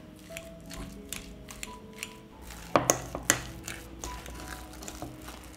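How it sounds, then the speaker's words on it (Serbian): A fork mashes peeled boiled potatoes in a bowl with soft squishing and scraping, broken by a few sharp clinks against the dish. "oljušten krompir izgnječet ću sa viljuškom"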